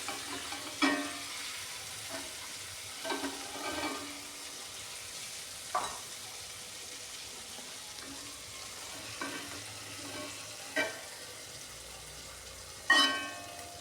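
KFC-style chicken pieces deep frying over a low flame, a soft continuous bubbling sizzle broken by periodic scraping clatters as the pieces are turned in the oil.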